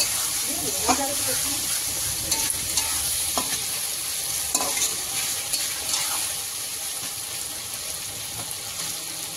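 Spice masala fries in a pan for a home-style chicken curry, with a constant loud sizzle and hiss and the intermittent scrape of a stirring spoon, close up.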